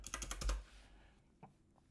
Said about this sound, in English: let me just backspace it